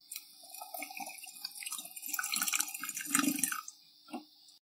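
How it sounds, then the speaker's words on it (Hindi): Water is poured into soaked rice in a cooking pot for beef yakhni degi biryani, making close, irregular gurgling splashes for about four seconds, then a short final splash. "अब हम इसमें पानी ऐड करेंगे।"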